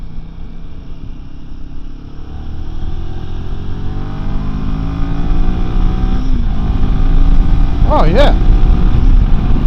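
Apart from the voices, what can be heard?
Royal Enfield Himalayan 450 motorcycle riding in third gear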